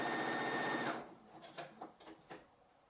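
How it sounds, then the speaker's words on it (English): Sewing machine stay stitching a dress shawl collar: a steady close whirring run for about a second, then stops, followed by a few soft clicks and handling taps. "So now I have stay stitched across the collar width of the back to our markings"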